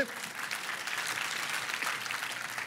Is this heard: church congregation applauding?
yes